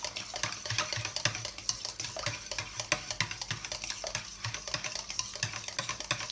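Bread dough ingredients for a Hokkaido milk loaf being mixed in a bowl, with steady scraping and clinking of a utensil against the bowl in a quick, irregular rhythm, close and moderately loud, with no talking.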